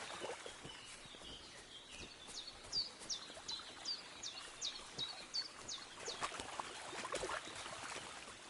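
Flowing stream water in Kingdom Come: Deliverance II, a soft, continuous babble with birds chirping repeatedly above it, all fairly faint and ambient.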